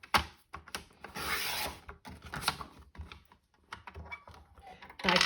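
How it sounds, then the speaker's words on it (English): Stamping card is cut to size with a series of scraping, rasping strokes and sharp clicks, including a longer sustained slide, all close by and without talk. "I'm just going to cut some stamping card down to"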